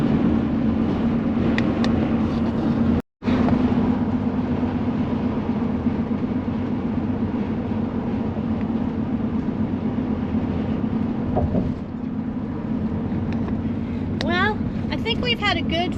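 Car driving across the Confederation Bridge to Prince Edward Island, with a steady loud road and engine rumble throughout, one brief dropout, and occasional voices under the noise.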